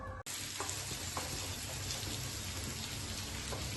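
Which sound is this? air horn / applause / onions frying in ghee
onions frying in ghee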